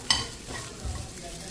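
Rice being stirred and mixed in a hot pan, a continuous sizzle with scraping strokes of a spoon, close and fairly loud, over about a second and a half with no talking.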